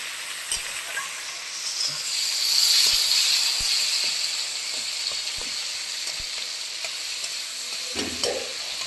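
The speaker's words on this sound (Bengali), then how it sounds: "মশলাটা কষানো হচ্ছে, আপনারা দেখতে থাকুন।" Spice paste and tomato fry in a pan for a banana-flower curry, giving a steady close sizzle with faint scraping stirs, a louder hiss swelling briefly midway, and a soft clunk near the end.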